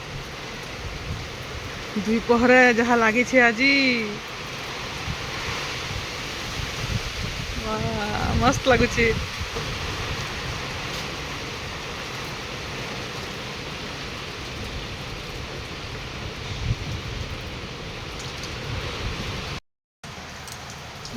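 Steady rain falling on an afternoon after a hot day, a continuous close hiss running throughout, with a voice speaking briefly twice over it.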